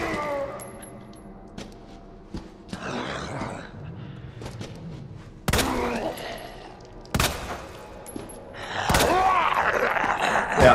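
Scattered gunshots from a handgun in Resident Evil 2 Remake, a few sharp loud cracks spaced several seconds apart amid quieter game ambience, with a burst of heavier noise near the end.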